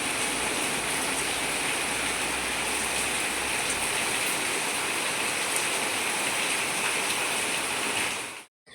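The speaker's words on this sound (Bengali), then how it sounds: "বৃষ্টির কথা বলতে বলতে যেন ঝমঝম করে বৃষ্টি নেমে গেল।" Heavy rain pours down in a dense, unbroken roar of hissing water that stays loud and even throughout, then cuts off abruptly at the end.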